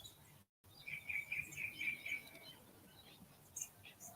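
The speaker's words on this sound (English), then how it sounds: "the birds singing" Faint, distant birdsong: a thin series of high chirps and trills over quiet outdoor ambience.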